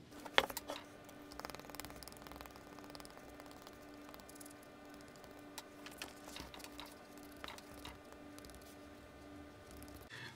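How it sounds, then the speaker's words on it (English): A sewing machine stitches strips of leather for a rope bag, a faint, steady mechanical whir with scattered clicks and a brief louder clatter near the start. "And then we are going to sew these on the machine."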